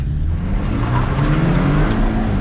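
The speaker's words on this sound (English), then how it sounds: "It's a zippy car" A zippy car accelerating hard, heard up close and loud, its engine note rising steadily with a buzzy harmonic growl and no voices.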